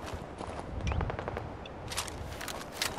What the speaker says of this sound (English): Can hear some gunfire.